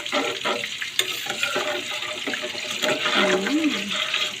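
Eggplant omelette mixture (tortang talong) being stirred in a kitchen, a steady scraping and sloshing with a watery, frying-like hiss running throughout, fairly close and continuous.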